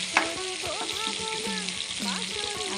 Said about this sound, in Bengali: পাবদা মাছ ভাজতে গেলে শুধু ছিটে